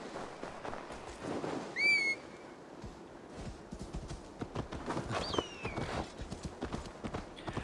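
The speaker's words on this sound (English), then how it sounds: "I shall summon my horse, my trusty steed." Clip-clop hoofbeats of a summoned horse galloping in Assassin's Creed Valhalla, with a loud neigh near the two-second mark and a whistle, the hooves continuing steadily and fairly close to the end.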